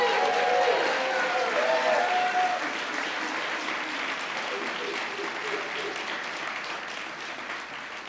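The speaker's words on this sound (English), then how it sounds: "Please join me in a round of applause, Lieutenant Sesse." Audience at an Army ROTC battalion commissioning ceremony applauds in a full, sustained round, a dense wash of clapping that holds steady then gradually eases, with a brief voice at the start.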